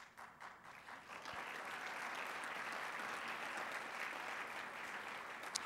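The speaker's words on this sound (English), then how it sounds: "And as you're clapping, I hope you're clapping for yourselves" Sustained audience applause fills the room at a lunch forum, a steady wash of many hands clapping at even loudness throughout, close and continuous with no speech over it.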